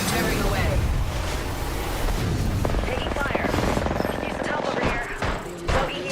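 Gunfire in an Apex Legends match: dense, rapid automatic bursts and scattered single shots rattle continuously, loud and busy amid explosive rumble and chaotic battle noise, with voices talking under the shooting.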